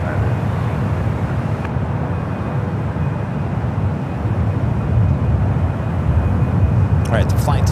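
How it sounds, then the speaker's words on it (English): A United heavy jet bound for Hong Kong rolls down runway 28 left at San Francisco International, a steady broad engine roar that swells slightly louder toward the end. "the flight to Hong Kong now rolling down to 28 left"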